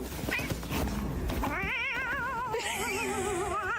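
A cat lets out a long, wavering, drawn-out meow that rises into a warbling caterwaul, preceded by a moment of shuffling noise, all quite close and alone without talk.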